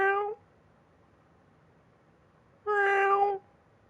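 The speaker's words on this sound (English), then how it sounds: "You thought you heard a cat meowing." A cat meows twice in the video game Alan Wake II, one short meow at the start, then after a quiet pause a longer, louder drawn-out meow, both clear and close against faint background hiss.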